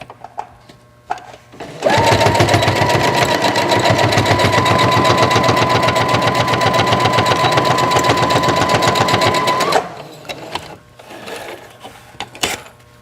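A sewing machine stitches a quarter-inch seam on a fascinator hat, starting abruptly, running steadily for about eight seconds with a fast, even mechanical rattle, then stopping.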